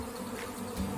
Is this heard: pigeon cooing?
no